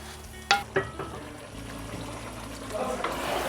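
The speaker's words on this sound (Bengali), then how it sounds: "মিডিয়াম আঁচে কষাবো আর মাঝে মাঝেই নেড়ে দেব, না হয় তলায় লেগে যেতে পারে।" Meat for achari mangsho being braised over medium heat in a pot, with a few sharp clinks of a stirring spoon early on and a low steady sizzle throughout that rises slightly toward the end.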